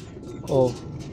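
A racing pigeon gives a single close, throaty coo in the middle of a short stretch, with background murmur and a voice nearby.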